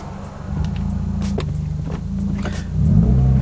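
A car engine, newly tuned with an Accessport, rumbles steadily, then swells into a louder, deeper roar near the end as it pulls away hard in first gear.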